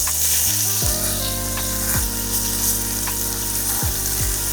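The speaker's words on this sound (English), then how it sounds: "So we're gonna let those do their thing for a moment. Sauteing up nicely." Vegetables and greens sautéing in a single pot, a loud continuous sizzle with a few stirring knocks, while a sustained tonal hum with sliding pitch drops runs underneath.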